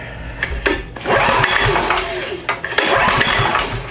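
A Homelite LRX5600 11.5HP generator engine with very low hours cranks over repeatedly without catching, loud close bursts of mechanical churning separated by short pauses.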